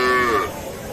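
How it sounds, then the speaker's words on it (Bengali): A young bull calf at a busy rural cattle market gives one short, loud moo that quickly tails off into the low murmur of the crowd. "ওইটা ষাঁড় বাচ্চা।"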